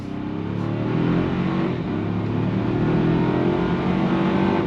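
A 2025 Toyota 4Runner TRD Sport drives with a steady, close engine drone and faint road noise, rising slightly in pitch, with no talk.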